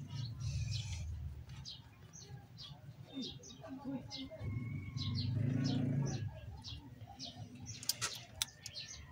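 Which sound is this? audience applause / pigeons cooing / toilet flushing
pigeons cooing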